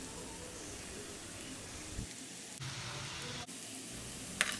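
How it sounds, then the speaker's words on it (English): Onions frying in a pan for a chicken curry, giving a steady, low sizzle throughout with a brief scrape or clink near the end. "You have to completely cook these onions till they turn into brown."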